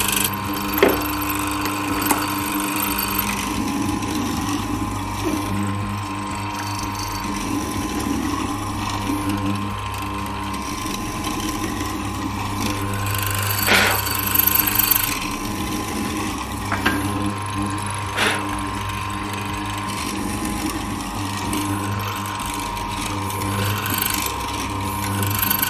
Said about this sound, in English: we can bring this down and actually cut our mortise in a succession of passes by just moving the trunnion table back and forth